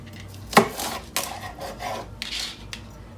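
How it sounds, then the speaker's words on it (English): A knife chops food into bite-sized chunks on a cutting board while preparing a summer cookout dish: a few close, sharp chops with some softer scraping between them and no talking. "I'm just gonna cut these into chunks"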